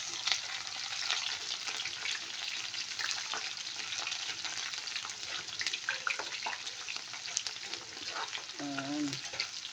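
Onions and garlic sizzle steadily in a pan, a dense broadband frying hiss throughout with light stirring scrapes, and a brief voice near the end.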